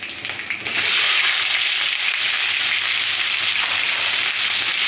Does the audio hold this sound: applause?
no